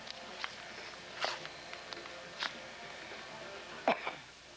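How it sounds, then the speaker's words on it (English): A few short, sharp coughs from one person break a quiet room, spaced irregularly, the last pair close together and loudest. "That's my famous cough"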